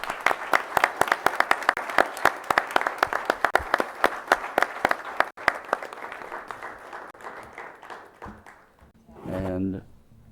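An audience at a county meeting claps in sharp, sustained applause that fades out, followed by someone speaking into a microphone.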